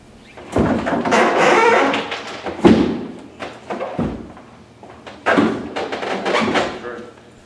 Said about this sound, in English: I'm going to slide the whole tank and stand back in against the wall